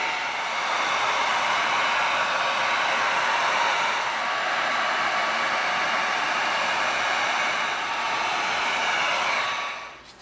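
A heat gun blows a steady, even roar of hot air while sealing EVA foam on a crossbow build, continuous and close for the whole stretch before cutting off at the end.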